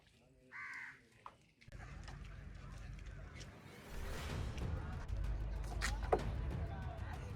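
A crow caws a few times at a distance on an island near Jaffna, Sri Lanka, over outdoor background noise and murmuring voices, with wind-like rumble growing louder.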